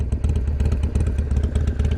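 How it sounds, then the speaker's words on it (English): A Harley Sportster with an Evo engine idles up close, its exhaust giving a loud, loping stream of rapid uneven thumps and rumbling pulses with mechanical clatter. "Listen to that exhaust."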